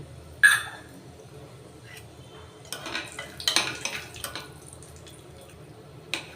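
Peanuts frying in a pan for a rice dish, with scattered utensil clinks and scraping stirs over a faint background, and a sharp clatter near the start and another at the end.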